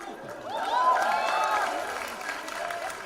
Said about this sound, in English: Give a round of applause for team number 54.